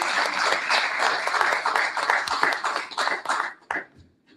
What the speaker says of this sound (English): Double clapping.